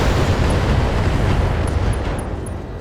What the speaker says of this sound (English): there was an ammo explosion, and the ammo explosion finishes them off